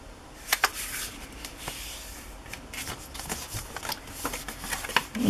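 Cardstock paper being folded into a signature for a handmade journal, heard as close, crisp rustling and creasing with a few sharp crackles, fairly quiet and without talk.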